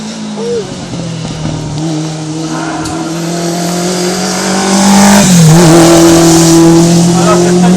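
A Renault-engined race car at the Calmont hill climb, its engine droning and rising in pitch as it accelerates, growing louder and closer toward the end, with a commentator talking over it.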